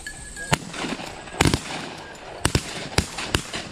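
Several sharp gunshots ring out during a hunting event, spaced irregularly with a pair close together and single reports after, loud and echoing outdoors with no talking.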